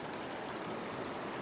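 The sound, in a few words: river water flowing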